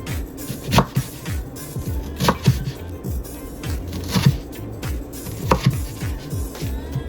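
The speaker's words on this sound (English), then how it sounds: "And then you're going to slice them into cubes." A knife cuts collard green strips into small cubes on a board, giving sharp, separate chops spaced a second or more apart over soft background talk.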